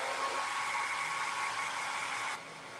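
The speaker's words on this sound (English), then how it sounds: "So I'm going to hit it with the blow dryer real quick." A handheld blow dryer runs to dry paint on a painted pumpkin, a loud, close, steady hissing whoosh that drops in level near the end as it is switched off or turned away.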